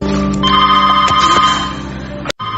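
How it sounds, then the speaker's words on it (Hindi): A telephone rings loudly and close by, a sustained electronic ringing tone that repeats for over two seconds and then cuts off abruptly, with a brief resumption. "फोन उठाइए और सामने जो भी हो उससे आराम से समझा।"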